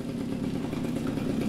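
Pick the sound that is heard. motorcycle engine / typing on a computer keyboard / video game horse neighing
motorcycle engine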